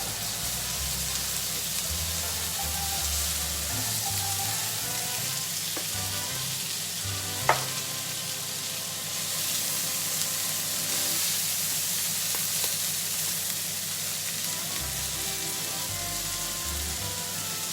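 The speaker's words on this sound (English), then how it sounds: "So you want the prawns to fry nicely." Prawns fry in a pan with a steady, even sizzle and crackle, occasionally stirred, with a brief clink partway through.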